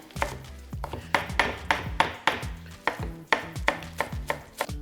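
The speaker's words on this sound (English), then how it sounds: "So this is just some green onion. You want a pretty fine cut on that." A knife chops green onion finely on a cutting board, with a quick, steady run of crisp close-up cuts in a regular rhythm and no voices.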